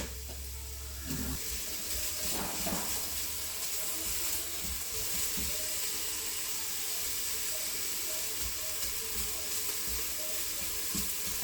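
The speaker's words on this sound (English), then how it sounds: "So let me wash my hands." Water runs steadily from a kitchen sink tap during hand washing while bacon cooks nearby, a continuous moderate rush with faint sizzling underneath.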